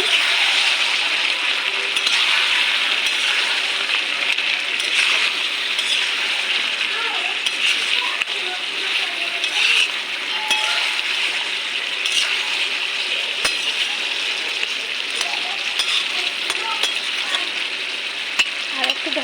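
Mutton curry with yogurt stirred in hot oil in a pan, a steady bright sizzle and frying hiss running throughout with occasional spoon scrapes and clinks, while someone talks over it.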